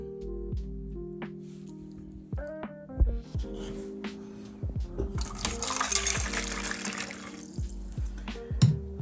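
Hot water runs from a tap while a dirty watch is cleaned, a fairly faint splashing rush that swells midway amid clinks and handling knocks, with no talk.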